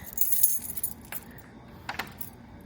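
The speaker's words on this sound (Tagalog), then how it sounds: "Dami kong susi, guys." A large bunch of keys jangles and clinks in a quick burst, then a couple of sharper metallic rattles follow, close up against a quiet indoor background with no talk.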